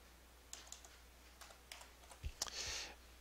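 Fingers type a stock ticker symbol on a computer keyboard, giving a few quiet, scattered key clicks in short bursts, close and soft in an otherwise still room.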